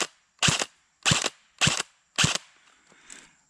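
Elite Force MP5 airsoft gun firing four sharp, evenly spaced shots at a target 100 feet away, each a loud crisp crack with a short tail, followed by faint rattling and distant impacts.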